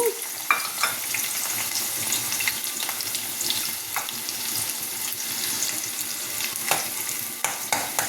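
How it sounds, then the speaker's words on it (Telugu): Sliced onions frying in hot oil in a pan, a soft continuous sizzle with occasional light clicks and scrapes, moderately quiet and close, no voices. "ఈ ఉల్లిపాయలు అనేవి వేయించుకోవాలి"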